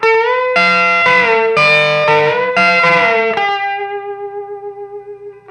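Electric guitar riff in open tuning: a few bright, distorted chord stabs and bends, then a final chord left ringing and fading with a wavering tremble.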